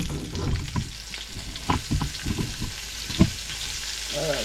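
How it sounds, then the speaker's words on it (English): Cornmeal-coated okra dropped into hot oil and frying: a steady close sizzle with uneven bubbling and small knocks, ending in a brief rising crackle. "shake some out, drop it in the hot oil."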